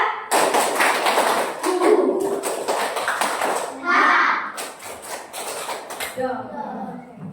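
Children clap together in sharp, rhythmic bursts while chanting and calling out in unison during a classroom ice-breaking clap game, with short pauses between the clapping phrases.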